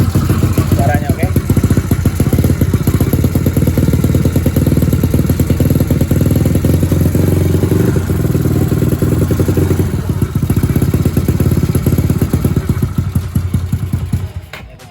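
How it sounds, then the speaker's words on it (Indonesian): A Yamaha Mio scooter with a snapped valve spring, running after repair, its engine loud and close at a steady, slightly clattering idle for the whole stretch, with people talking over it. "Nih motor udah hidup"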